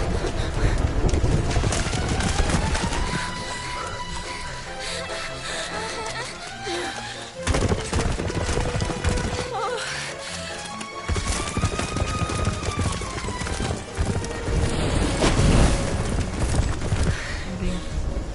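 Headless horsemen gallop in the Dragon Quest XI video game, with fast hoofbeats pounding over a dense, loud game soundscape of gusting wind and clattering noise that briefly drops out twice.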